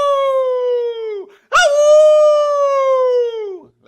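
A person's voice imitates a grey wolf howl: two long, loud, drawn-out tonal howls, each sliding slowly downward, separated by a short break, close and alone.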